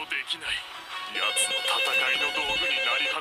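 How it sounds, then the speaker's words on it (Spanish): A telephone ringing in a game, a repeating high electronic ring tone under loud talking that continues throughout. "Me voy a encargar de que ese teléfono deje de sonar"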